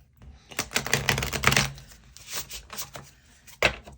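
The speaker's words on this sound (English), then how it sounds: "And then I'll give the deck a shuffle." A tarot card deck being shuffled: a run of crisp riffling card flutters over about three seconds, then a final sharp burst of cards snapping together, close and fairly quiet with no talking.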